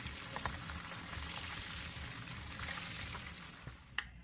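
Pork fries in hot oil for a sweet and sour dish, giving a steady, quiet sizzling hiss with a few faint pops and a small clink near the end; no one speaks.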